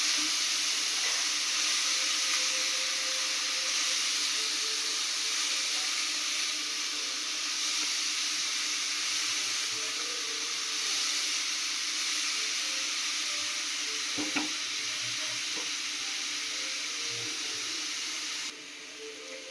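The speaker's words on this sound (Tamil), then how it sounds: "ஒரு 4 நிமிஷமாவது ஆகும் இது நல்லா நெய்யிலேயே ஃப்ரை பண்ணுறதுக்கு." Grated carrots frying in ghee over a medium flame for carrot halwa give a steady, soft sizzling hiss that runs on evenly, with a faint knock partway through and a slight drop near the end.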